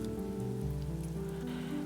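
Constant soft rain falling outside on a rainy night, a steady gentle patter with no talk, mixed with a low sustained tonal hum from other sounds close by.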